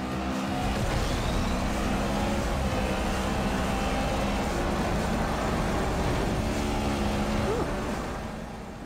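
Racing car engine from the Need for Speed video game on an iPad, a loud continuous roar with shifting pitch bands as the car speeds along, steady throughout with a faint voice in the background.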